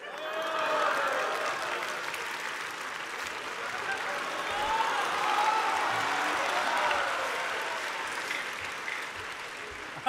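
A theatre audience at a Deyunshe crosstalk show gives a sustained, full round of clapping lasting around ten seconds. The applause holds at an even, loud level with the faint murmur of the crowd beneath it.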